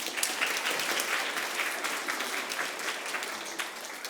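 Children at a junior school event applaud in a steady, dense round of clapping that carries on evenly for a few seconds with no one speaking over it.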